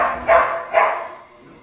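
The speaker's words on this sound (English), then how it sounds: "Their dog is barking too in the background." Two barks from a dog, spaced under a second apart, sounding muffled and somewhat distant.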